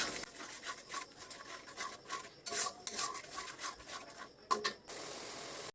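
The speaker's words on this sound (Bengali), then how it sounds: "একটু শুকনো লঙ্কার গুঁড়া দিচ্ছি, মরিচের গুঁড়া, আর একটু জল দিয়ে কষাবো" Spices with dry chili powder, tomatoes and a little water being stirred and fried in a pan, quiet repeated rubbing and scraping strokes with small clinks, close and irregular, no talking.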